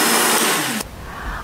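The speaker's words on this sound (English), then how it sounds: "turn the blender on for about 10 seconds" A kitchen blender whirs as it mixes a yogurt shake with ice cubes, a loud steady grinding motor that cuts off abruptly partway through, leaving a quieter room.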